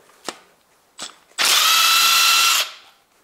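A power tool unscrews a bolt from a Toyota 2ZZ-GE 1.8 VVTL-i engine during camshaft removal: two short clicks, then one loud, close whirring burst lasting about a second before it stops.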